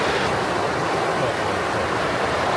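Sea surf rolls onto a sheltered February beach in the Pyrénées-Orientales, a loud, steady broadband wash of breaking waves close by, with some wind rumble on the microphone and no talking.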